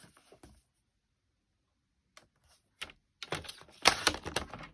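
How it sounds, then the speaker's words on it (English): A paper trimmer cuts card stock to size for a Stampin' Up! skinny gate fold card, giving a few quiet ticks, then a run of sharp, close sliding clicks and snaps toward the end. "So I'm going to cut this 5 1/4. And then I'm going to cut 4."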